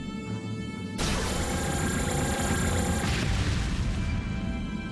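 Magic missile spell in the video game Eiyuden Chronicle Rising bursts into a loud, sustained explosion that roars over a quieter background of game music.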